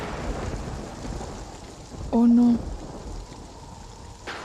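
Rain and thunder break out outdoors, a steady broadband hiss of falling rain with low rumbling under it and a brief tonal burst near the middle. A voice speaks briefly over it.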